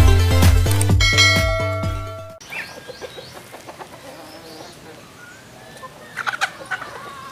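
Backyard hens clucking in short, scattered bursts at moderate distance, following a few seconds of loud ringing tones; no talking.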